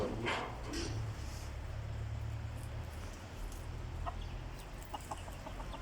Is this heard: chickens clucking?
yes